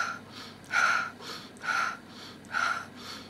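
Short forceful exhalations in yogic-style breathing, four evenly spaced breathy bursts about a second apart, close and soft, with quiet pauses between them.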